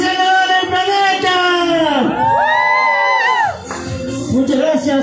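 A crowd at an Earth Hour walking event shouts and cheers in loud, voice-heavy bursts, with rising and falling whoops dominating the whole stretch and a short dip near the end.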